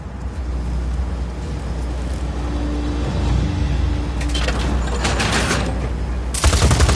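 Gunfire in a video game as a creature is shot in the guts after its plating is ripped off, rattling bursts that build over a steady rumbling machine drone and end in a loud final blast.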